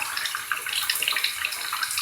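Water runs steadily into a tub, giving a close, continuous hiss and splash with no voices.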